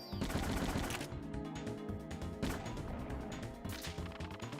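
Machine gun fire in the PlayStation game Parasite Eve: dense, rapid bursts of loud shots and impacts layered over game sound, continuous across the moment with no speech.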